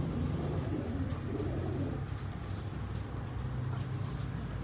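Pigeons on a Karachi rooftop coo in soft, low, repeated calls, close by, over a constant hum of background noise.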